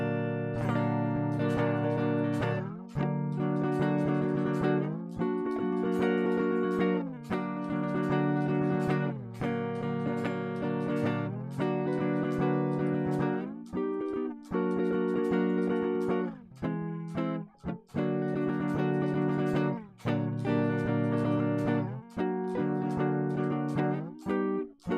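Strummed rhythm chords ring out on guitar in a steady repeating pattern, each chord sustaining before the next strum, loud and close with no talking.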